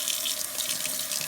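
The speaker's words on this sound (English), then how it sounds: "I'm just going to run a little water in there" Cold water runs from a tap to rinse out the inside of a Noritz NR66-OD natural gas tankless water heater during descaling, a steady close splashing gush with no talking.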